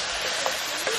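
Cut potatoes and carrots sizzle in a pot of oil as they are stirred. A dense, steady hiss carries a couple of faint scraping touches over one brief second.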